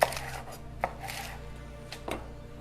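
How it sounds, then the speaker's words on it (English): A knife chops lettuce into pieces on a cutting board, giving a few sharp, separate cuts amid soft rustling of leaves, close and moderately loud. "I'm going to chop the lettuce into 1-inch pieces."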